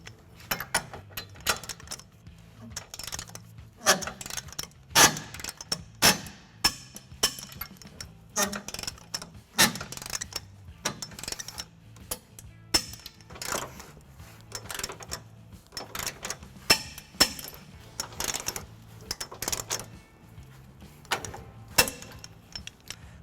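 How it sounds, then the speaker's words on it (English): Repeated ratcheting clicks and metallic clinks from a 19mm socket on a 5-inch extension, tightening and torquing trailer hitch bolts on a 2016-2023 Toyota Tacoma, in irregular bursts close by with no talking. "we're just going to tighten and torque all of our bolts to the manufacturer specification"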